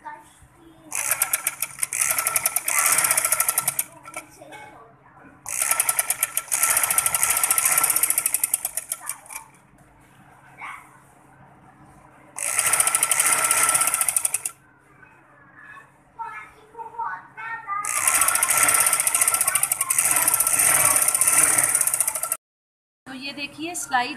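An electric sewing machine stitches a strip along the hem of a trouser leg, running in long steady whirring bursts separated by pauses, with a person talking during the quiet gaps.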